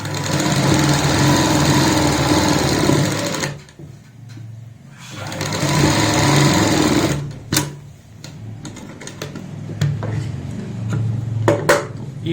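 Sewing machine stitching the seam of a women's pajama-style palazzo pant: a loud, steady electric motor whir in long runs, stopping for pauses with faint handling clicks between bursts.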